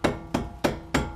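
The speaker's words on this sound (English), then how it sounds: "Now I get the hammer and go." Four sharp, evenly spaced hammer blows ring out close by while suspension parts are knocked into place during a camber plate install on a Volvo V60 Polestar, each strike followed by a brief decaying ring.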